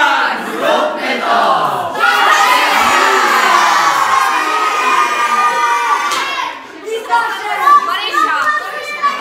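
A crowd of children at a live stage show in Kruklanki shouts loudly together in a long, sustained roar, then breaks into scattered excited calls and chatter.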